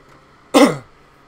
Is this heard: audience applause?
no